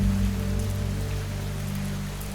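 Steady rain falling in a dense, even hiss with a low rumbling bed, continuous and close, no voices.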